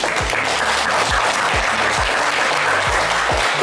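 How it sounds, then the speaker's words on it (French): A studio audience on a French television game show applauds loudly and steadily throughout, with a regular low thump pulsing beneath the clapping. "Ils vont vous applaudir très, très fort"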